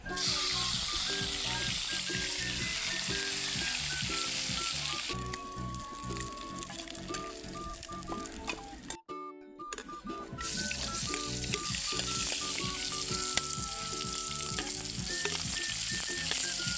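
Vegetables sizzle steadily in a pan with coconut milk, a dense, continuous frying crackle that runs almost the whole time, briefly dropping out midway.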